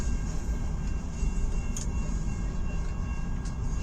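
A heavy CN freight train passes slowly near Richmond, Michigan, giving a continuous close rumble of wheels and cars with no voices over it.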